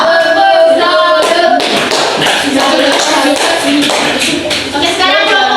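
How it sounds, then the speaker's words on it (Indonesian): A primary school class claps for a student group during an Indonesian-language lesson. The loud, close hand claps are uneven and crowded, mixed with voices and shuffling. "Tepuk tangan untuk kelompok 2."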